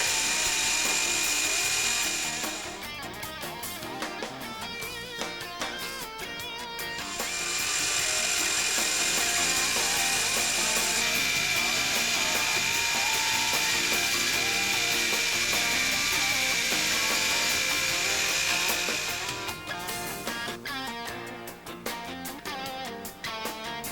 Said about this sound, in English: Here's an example of using the bandsaw to cut a block.